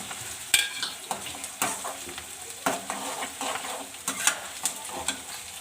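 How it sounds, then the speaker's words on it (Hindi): Onions fry in a pan over the stove, a constant close sizzle broken by scraping stir strokes that land at irregular intervals. "चलिए प्याज फ्राई होने देते।"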